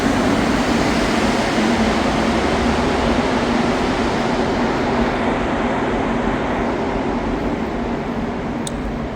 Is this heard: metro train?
yes